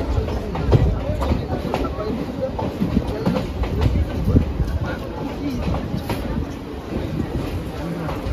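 The Rampurhat–Sealdah Maa Tara Express rumbles and clatters steadily at close range at a station, with faint crowd chatter mixed in beneath the rolling mechanical noise.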